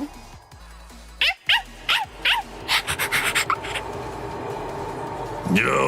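A dog in the video game Bleach: Rebirth of Souls barks in a quick string of sharp yelps, about five in a row, followed by rapid scrabbling noise under game sound.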